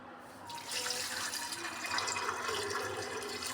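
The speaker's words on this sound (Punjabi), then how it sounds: "ਹੁਣ ਅਸੀਂ ਇਹਦੇ ਵਿੱਚ ਪਾਣੀ ਪਾ ਦਾਂਗੇ" Water is poured into a pot of peas and potatoes for ragda, a close splashing gush that starts after a short pause and runs steadily to the end.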